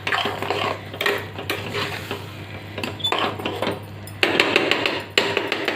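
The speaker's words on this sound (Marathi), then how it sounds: "ही साखर मस्त एकजीव करून घेऊया।" Sugar being stirred into mango shira in a pan: repeated metal spoon scrapes and clatters against the vessel over a soft low sizzle, close and loud, with no voices.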